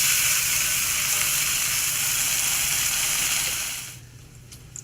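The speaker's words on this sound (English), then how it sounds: "Next, we're going to put our bacon in the pan here." Two pieces of thick Cajun bacon fry in an oiled pan, a steady bright sizzle close by that holds for about four seconds before dropping away abruptly, leaving a quiet room and a faint click; no talking.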